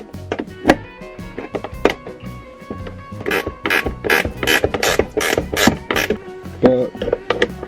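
Ratchet wrench loosening 7/16 bolts on a Harley motorcycle, with bursts of quick metallic clicking and occasional creaks in uneven rhythm, close and clear, no talking.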